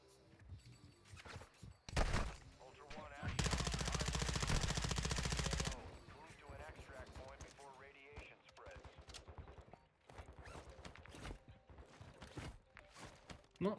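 Gunfire in the video game Call of Duty DMZ: a dense sustained burst of automatic fire, loud and close, plus scattered shorter shots, mixed with players talking throughout.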